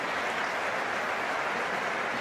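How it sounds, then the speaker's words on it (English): Stadium crowd at Stamford Bridge applauding a Cole Palmer pass during a Chelsea pre-season match against AC Milan, a dense, even roar of clapping from thousands of hands filling the whole moment. "String of applause around Stamford Bridge for that Cole Palmer pass."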